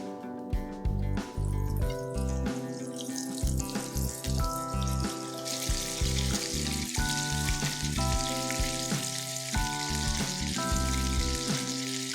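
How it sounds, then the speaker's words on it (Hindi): Paneer cutlets frying in hot oil over high heat, a steady bubbling sizzle with crackling spatter running throughout, close and loud, layered with a sustained musical tone and no talking. "इसी तरह हम बाकी के कटलेट्स भी फ्राई कर लेंगे।"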